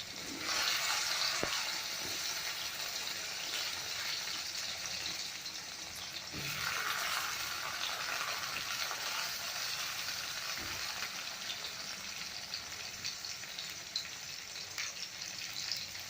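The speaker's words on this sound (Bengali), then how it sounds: "এবার আমি তেলে কেটে রাখা কচু আর বেগুন ভেজে নেব।" Chopped taro and eggplant frying in hot oil, a steady close hiss and crackle of sizzling that holds through the whole stretch, with a few faint clinks, no voices.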